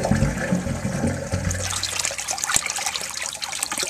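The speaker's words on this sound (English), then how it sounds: "Here comes some more water." Water pours and splashes steadily into a sewage grinder pump basin, a close, continuous rushing gush with trickling and gurgling that thins slightly toward the end.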